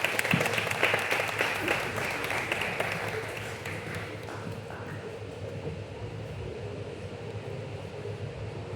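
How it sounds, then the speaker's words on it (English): Audience applause at a Sony 1000X event, a dense steady clatter of many hands clapping in a large hall, loud at first and gradually thinning but continuing throughout. "Big round of applause, of course."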